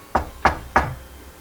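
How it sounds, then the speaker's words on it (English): Three evenly spaced, solid knocks on a door, close and distinct, each a dull thud that fades quickly before the next, followed by quiet. "and then knock on the door."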